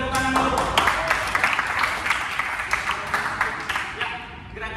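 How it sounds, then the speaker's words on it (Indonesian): Group applause during a demonstration of static movements, a short burst of many hands clapping, fairly close, with a speaking voice over it that fades near the end. "Ya, beri tepuk tangan dulu."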